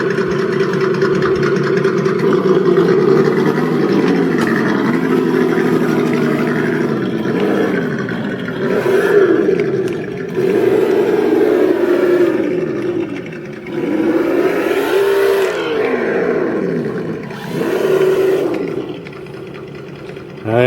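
An Axial RC jeep with a dual motor upgrade and upgraded transmission drives nearby, its electric motors whining steadily and rising and falling in pitch as it speeds up and slows, with someone talking over it.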